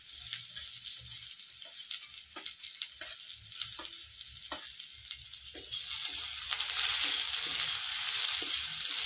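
Chopped vegetables with capsicum fry in a pan, a constant crackling sizzle punctuated by light stirring clicks that swells louder toward the end; no voices.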